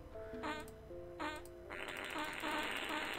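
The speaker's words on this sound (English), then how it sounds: "So many fart noises!" Comic fart noises from the puzzle game Rusty Lake Hotel, several blurting bursts in a row that grow into a longer, louder rasp, with no talking over them.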